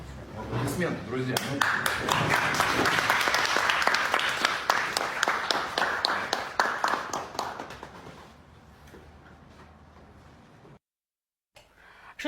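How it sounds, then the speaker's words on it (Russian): Audience applause at an official event in Abkhazia: dense, loud clapping from many hands for about eight seconds, then thinning out and fading to near silence. "Аплодисменты, друзья."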